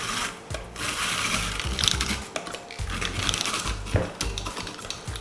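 A food processor shreds white cabbage in a kitchen, giving a dense, gritty, rattling churn that runs steadily with brief dips and bumps, close and loud, with no talking.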